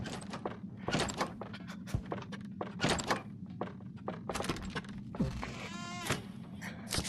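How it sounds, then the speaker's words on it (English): Doors in a horror video game: a sequence of close thunks and clanks with a jangle, rattling latch sounds and a creaking slide near the end, no voices. "If I hear doors, that means I'm about to run into the fog."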